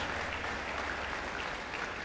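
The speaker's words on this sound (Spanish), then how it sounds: "¿Por qué no le da un aplauso a Jesús, el Dios de toda gracia?" A church congregation claps in praise during a Spanish-language sermon, a brief, steady wash of applause that sounds somewhat distant and soft.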